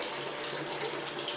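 Water runs steadily through a spiral gold wheel at low flow, a continuous close wash of hiss and trickle with no pauses.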